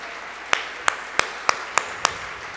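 A church congregation claps together in a sharp, even rhythm, six crisp unified claps spaced roughly a third of a second apart over a quiet room background.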